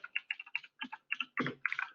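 Keys are pressed on a computer keyboard, including a Control F shortcut, as a quick run of close, crisp clicks in short bursts with brief gaps between them and no speech.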